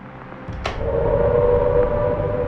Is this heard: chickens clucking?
no